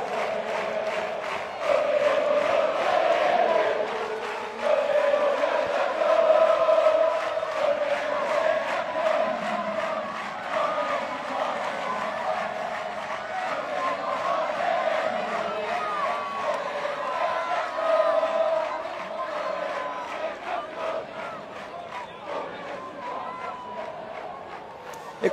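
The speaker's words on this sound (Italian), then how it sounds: "il saluto caloroso dei tifosi viola che continuano naturalmente a cantare sugli spalti" Fiorentina supporters chant and cheer from the stands at an open training session before a cup final, a loud, sustained crowd roar with a steady sung melody running through it the whole time.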